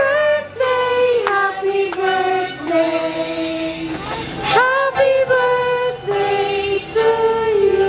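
People at a birthday celebration clap their hands in a run of sharp, close claps, scattered over voices and tuneful vocal sounds in the room.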